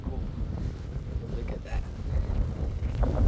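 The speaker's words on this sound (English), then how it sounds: "Very windy." Strong wind buffets the microphone at a lakeside viewpoint by Pyramid Lake in Jasper, a steady loud rumbling gust noise that swells toward the end with no one talking.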